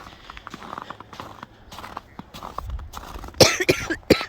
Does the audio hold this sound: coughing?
yes